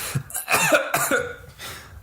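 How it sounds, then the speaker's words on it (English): A burst of harsh, rough coughing, several hacking coughs in quick succession, close and fairly loud. "If anyone gets bronchitis from that cough, I'm sorry."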